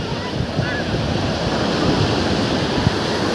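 Strong surf breaks on a beach at Libo, a loud, continuous roar of churning waves with wind buffeting the microphone, close and unbroken.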